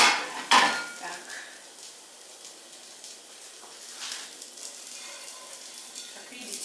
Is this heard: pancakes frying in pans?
yes